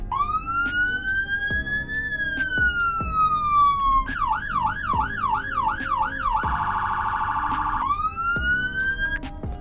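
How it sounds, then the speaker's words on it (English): A loud sheriff car siren in the video game Greenville rises in long wails, shifts to a rapid yelp, then a fast warble, and returns to a wail, sounding close and continuous. "Sirens."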